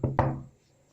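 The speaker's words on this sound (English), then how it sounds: "Just then the bailiff, the landlord, came and he was knocking his door." Two firm knocks on a wooden door, close and distinct, with the second ringing on briefly before the room falls quiet.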